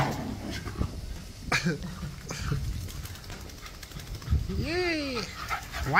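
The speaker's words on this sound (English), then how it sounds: "Wild dogs." Feral wild dogs near a lake give close, high whimpers and yips, ending in a run of rising and falling howling cries, amid light background noise.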